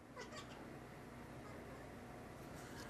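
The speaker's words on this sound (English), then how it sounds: "I was just snapping at my cat because she's trying to get up on the table." A pet cat meows indoors, faint and distant, with a few short calls near the start and end over a quiet room background, no talking.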